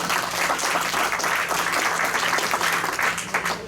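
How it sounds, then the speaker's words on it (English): Rotary Club members applaud birthdays at a weekly meeting, a steady, dense round of clapping that holds evenly for several seconds without pause. "Let's give them a round of applause"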